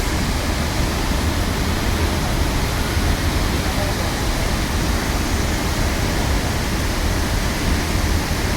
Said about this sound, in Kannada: ಇದೇ ಮೂಕನ ಮನೆ ಅಬ್ಬಿ ಫಾಲ್ಸ್